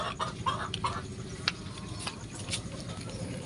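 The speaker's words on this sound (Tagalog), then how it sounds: "Laki ang manok no." A chicken clucks in short, scattered bursts over a low, busy background patter, fairly faint and close, with no voices.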